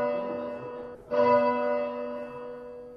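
A Worcester Cathedral church bell, played back from a computer, rings with a sustained, humming tone that is struck afresh about a second in, swelling brightly and then slowly decaying.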